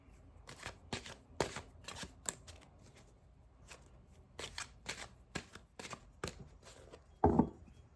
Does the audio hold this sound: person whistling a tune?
no